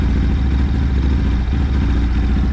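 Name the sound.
motorcycle engine starting and idling with original Geon carburetor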